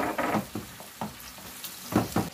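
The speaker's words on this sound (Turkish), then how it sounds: "2 tane domates rendesi ekliyorum" Grated tomato from two tomatoes goes into a hot frying pan for a vegetable meatball dish, bringing several close bursts of sizzling and spoon scrapes over a steady low fry, with no talk.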